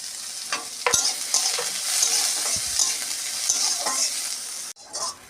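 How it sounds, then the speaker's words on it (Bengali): Onion and green chilli frying in a kadai, a steady close sizzle of hot oil with occasional scraping stirs of the spatula, cutting out briefly near the end. "পেঁয়াজ লঙ্কা ভাজা হয়ে গেছে, আমি তুলে নেব।"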